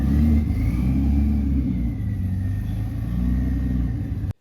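A Porsche 935 race car at the Miami Concours car show revs its engine. It gives a loud, deep, sustained rumble that holds steady for about four seconds and then cuts off abruptly, with no talking.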